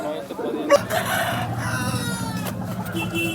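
A healthy, active rooster at a rooster market in Vijayawada crows close by, one drawn-out call over a busy background of murmuring voices and market noise.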